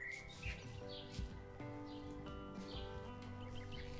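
Small birds chirp in short, bright bursts over soft sustained background music, moderately close and repeating throughout.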